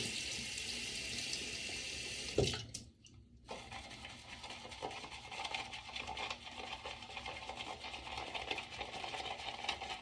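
Water runs steadily from a tap for most of the clip, briefly interrupted early on before the flow resumes, close by and fairly loud.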